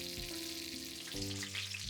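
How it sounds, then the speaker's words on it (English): Chicken pieces frying skin side down in a shallow layer of oil in a pan, giving a steady close sizzle with bubbling crackle throughout, while a low hum runs underneath. "I spread the oil underneath the chicken. I cook the chicken like deep frying."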